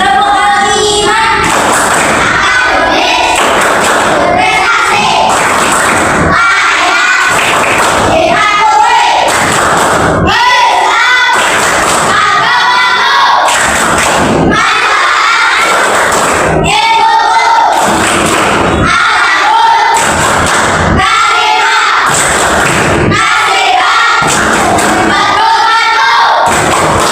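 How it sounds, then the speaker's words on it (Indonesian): Children in a classroom clap their hands in loud, rhythmic bursts of thumping claps with brief gaps between, crowd noise mixed in throughout. "1, 2, 3. Tepuk tangan."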